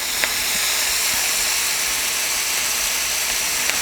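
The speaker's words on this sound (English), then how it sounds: "We're going to go ahead and sear this other one right here." A ribeye steak sears in a hot pan with a steady, dense sizzle and hiss that runs throughout, broken by a few faint pops and ticks.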